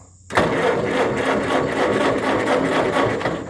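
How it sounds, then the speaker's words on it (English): A small 1957 farm engine runs loud and close, kicking in abruptly and then holding a fast, steady, rattling chug with a slight pulsing rhythm as it is given throttle. "I guess I better give it some gas up there, guys."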